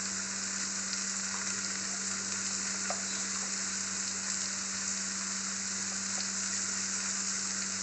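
Pangas fish curry mixture with salt sizzles steadily in a pan, a dense continuous frying hiss with faint stirring scrapes and a constant low hum underneath, with no voices.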